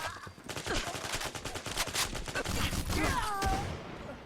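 Rapid rifle gunfire from an AS50 anti-materiel rifle in Fallout 4, a fast burst of sharp repeated shots dumping the magazine, loud and close, with game sound effects trailing at the end.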